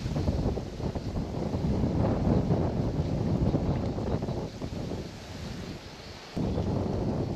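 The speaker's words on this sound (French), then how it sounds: "Ouh, le vent est fort." Strong wind buffets the microphone while fishing at the water's edge, a dense continuous rumble with gusts that swell and ease and one brief dropout near the end, close and loud, with no talking.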